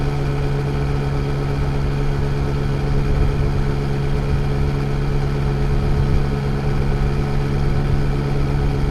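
A Yamaha XSR900 25th Anniversary Version motorcycle engine drones steadily while riding on a smooth road, a constant, fairly loud hum with even wind-like noise and no talking.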